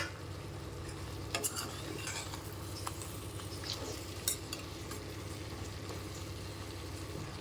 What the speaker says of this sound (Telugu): ఇప్పుడు వీటిని మళ్ళీ మంచిగా ఫ్రై చేసుకుందాం అన్నీ కలిసేటట్టు చూడండి